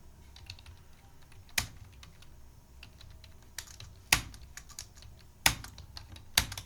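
Typing on a computer keyboard while entering data into TallyPrime accounting software, soft close key taps in irregular bursts broken by a few sharp, louder keystrokes, with no talk.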